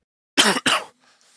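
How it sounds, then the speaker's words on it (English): Two quick, harsh coughs burst out close to the microphone from a player at an online card-game event, followed by near silence. "Still have that cough going on, huh?"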